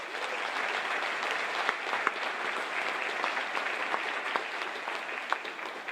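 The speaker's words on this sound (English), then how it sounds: "So give yourselves a round of applause." Steady, dense applause from parents and families in the audience at a high school spring band concert, sustained and even throughout with a few sharper claps standing out.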